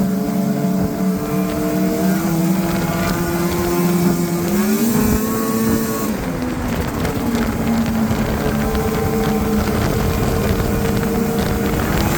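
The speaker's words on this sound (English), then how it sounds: "That idle's a little high." A steady turbo 7.3 diesel engine in an old Ford F250 idles high at a fast, constant rumble close by, its pitch rising briefly midway before settling back to a continuous drone.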